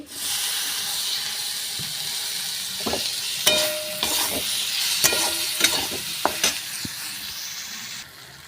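Chopped tomato frying in a pan for a wedding-style tarka, with a broad hissing sizzle and repeated sharp scrapes and taps of a spatula as it is stirred, close and loud.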